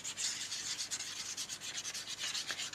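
Scribbling on paper with a drawing tool in a school art setting: quick, continuous scratchy rubbing strokes in an uneven rhythm, close and fairly quiet, with no voices.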